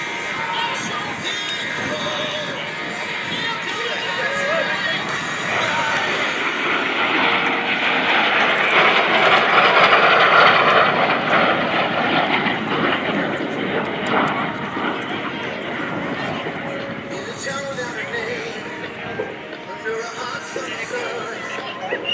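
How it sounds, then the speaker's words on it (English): A T-33 Shooting Star jet making a left-to-right photo pass at the Great Texas Airshow, a broad engine roar that swells to a peak around the middle and then slowly fades, with an announcer's voice over it. "Coming from your left to your right, this is Ace Maker Aviation T-33 Shooting Star and the Photo Pass."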